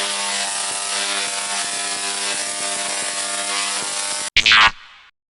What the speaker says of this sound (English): we're starting out here by taking all of the case bolts out